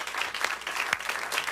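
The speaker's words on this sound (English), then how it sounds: "Give them a big round of applause." Brief applause from a television studio audience, a short burst of close, lively clapping with a few louder individual claps standing out.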